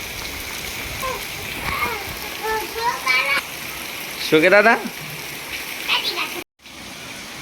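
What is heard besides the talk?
rain falling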